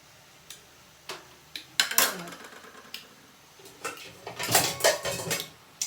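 A lid goes onto a pan while stir-fried basil chicken cooks, with sharp metallic clanks and clatters of cookware coming in scattered bursts, close by.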